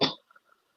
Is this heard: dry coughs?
yes